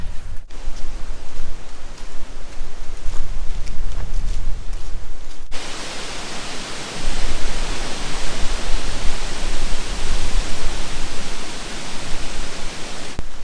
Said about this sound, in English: once we're up there, we'll have a ton of wind noise